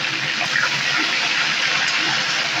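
Water released from mangoes being poured off while making Bengali mango pickle: a steady, close splashing pour with a continuous wash of noise throughout, fairly loud and uninterrupted.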